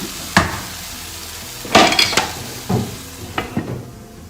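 Masala with finely chopped green chillies stirred in a hot pan for kofta biryani, a soft steady sizzle broken by several scraping spoon strokes at uneven intervals.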